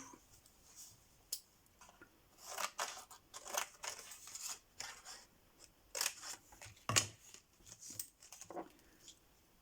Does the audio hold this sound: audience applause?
no